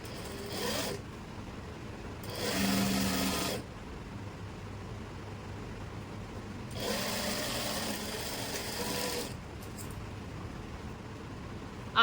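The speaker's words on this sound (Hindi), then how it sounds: "आसन पे लगाएंगे डबल सिलाई, और जैसे ये आसन पे सिलाई लगाई है वैसे ही पीछे वाले आसन पे भी सिलाई लगा लेंगे" Sewing machine running a double line of stitching on the seat of a palazzo, in several separate bursts of fast mechanical whirring with short quiet pauses between them, close and clear with nobody talking.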